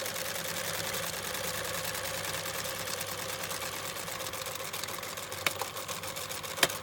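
A sewing machine runs steadily, stitching two pieces of fabric together for a pencil pouch, its fast even needle rhythm close and continuous, with a couple of sharper clicks near the end.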